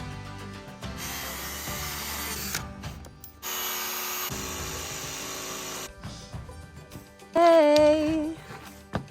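A power tool cuts a wooden roof rafter template in several close bursts of high whining buzz separated by pauses, ending with a louder rising whine near the end.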